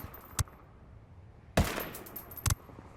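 Three MK-17 rifle shots ring out in Ghost Recon Wildlands, a single sharp report followed after a pause by two more, each loud and cracking with a short decaying tail.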